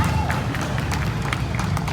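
A crowd applauds at an outdoor Christmas event in Plaza Rizal, Pasig, with steady dense clapping throughout and a low rumble of crowd noise underneath.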